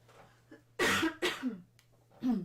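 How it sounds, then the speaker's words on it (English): A sharp cough, then a second rougher one, close and fairly loud, with a faint steady hum underneath and a short breathy sound at the end. "You don't need to bless me for coughing"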